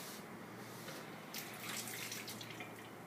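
Water runs from a faucet into a clean, dry test tube during a lab exercise, a soft steady splashing stream that grows a little fuller partway through, heard alone and fairly faint.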